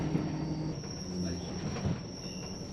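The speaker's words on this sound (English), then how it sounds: "still the train squeals around many tight curves at the shoreline" Train wheels squealing steadily around tight shoreline curves on the Kyle of Lochalsh line in Scotland during a storm, a continuous high metallic screech over rumbling carriage noise.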